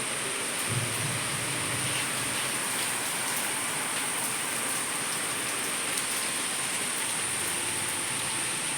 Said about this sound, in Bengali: বৃষ্টি কিন্তু আরম্ভ হয়ে গেছে বৃষ্টি পড়ছে আবার